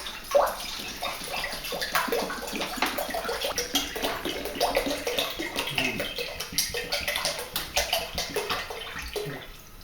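Water poured steadily into a cooking pot for Chinese spare ribs, a continuous close splashing and gurgling stream lasting several seconds with no talk.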